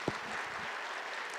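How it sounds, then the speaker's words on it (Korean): A church congregation gives a brief round of applause during a Korean worship service, a soft, diffuse patter of many hands heard at a low, distant level after a single sharp thump at the start. "박수 해주겠습니다. 여기까지."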